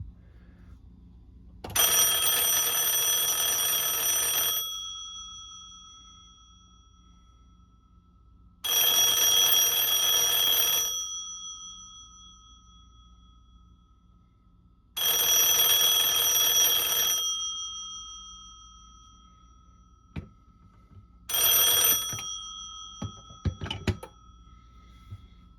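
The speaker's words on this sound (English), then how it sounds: "And then lastly, I will ring the phone." A 1941 Siemens Brothers Type 307 telephone rings loudly in four separate bursts of its bell, each lasting a couple of seconds with pauses between, the last burst shorter and followed by a few clunks.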